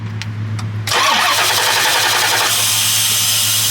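A Pontiac LeMans 455 V8 with an ignition fault is cranked over, a loud, steady starter churn that kicks in after a low hum and runs on without catching.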